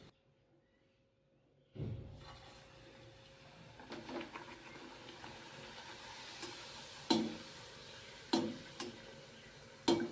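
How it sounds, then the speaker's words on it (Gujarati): Puris frying in hot oil make a steady soft crackle and sizzle that begins abruptly and runs throughout, with a few sharper pops and clicks standing out near the end. "તો હવે આપણે તેલ ગરમ થઈ ગયું છે તો તળી લેશું."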